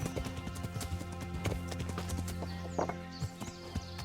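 Rhythmic clip-clop of horse hooves at a steady trot in the video game Kingdom Come: Deliverance, over a constant low hum, with a faint whinny-like sound briefly appearing.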